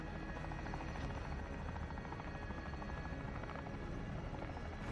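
Cargo helicopter in Call of Duty Modern Warfare survival mode, a loud steady rotor drone with dense low thumping and engine whine that holds unbroken throughout.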